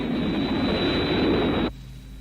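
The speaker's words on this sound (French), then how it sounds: "On dirait un moteur." An aircraft engine roars loudly and steadily with a high whine for nearly two seconds, then cuts off abruptly to a low residual hum, with no talk over it.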